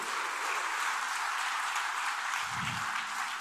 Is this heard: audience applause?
yes